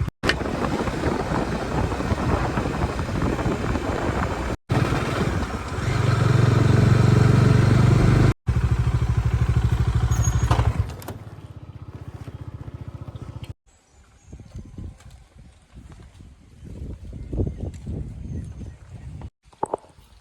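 A motorcycle is ridden through Bhutan on a new route, with engine drone mixed with heavy wind buffeting, brief dropouts, a louder low rumble midway and quieter road noise near the end.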